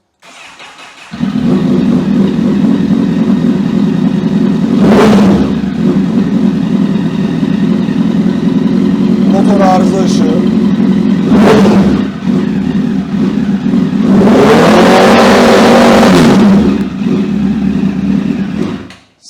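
A Honda CBR 1000 RR sport motorcycle engine starts and idles steadily, with several short revs rising and falling over it; a voice speaks briefly.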